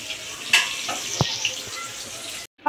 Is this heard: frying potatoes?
yes